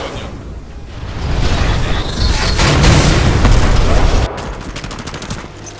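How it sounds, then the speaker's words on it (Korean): A loud booming explosion in the shooter game Titanfall 2 rolls out amid rapid gunfire, building to a heavy sustained rumble that cuts off abruptly near the end. "아이고 터졌다"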